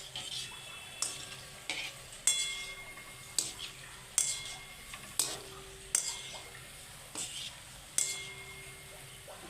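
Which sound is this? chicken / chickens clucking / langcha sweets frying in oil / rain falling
langcha sweets frying in oil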